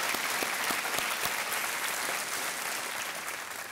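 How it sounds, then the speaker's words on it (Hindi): A TV quiz show studio audience claps to welcome a contestant, an even, sustained burst of applause that fades slightly toward the end, with no voices above it. "एक बार तालियों के साथ उनका स्वागत करें।"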